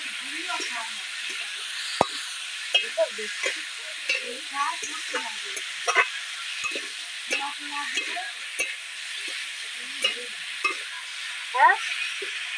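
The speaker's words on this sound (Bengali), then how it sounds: "নেড়ে নেবো।" Magur catfish curry with jackfruit seeds and ridge gourd is stirred in a pan, giving a steady oily sizzle broken by scattered scraping strokes, with a voice talking in the background.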